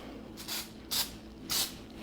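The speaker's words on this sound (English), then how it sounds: "We're gonna use our baking spray to coat the pan, make sure the cookies don't stick." Baking spray coats a cookie-cake baking pan in three short, quiet hissing bursts close by, with brief pauses between them.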